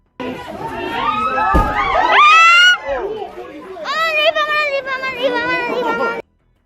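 A crowd shouting and screaming in panic at a gorilla enclosure, loud, close voices rising and overlapping in two bursts with a brief dip between.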